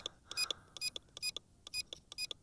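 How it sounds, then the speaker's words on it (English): The small tilt motor of a KAIDENG K70C Sky Warrior toy drone camera mount whines in about a dozen short, faint, stuttering bursts as it strains under a heavy action camera. "The motor just doesn't have the oomph to lift these heavier action cameras above about 45 degrees."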